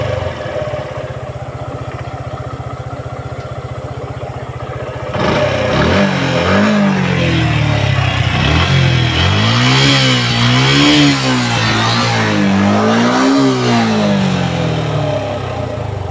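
An EFI ABS motorcycle engine idles steadily, then is revved repeatedly in rising and falling surges, loud and close, with no talk over it.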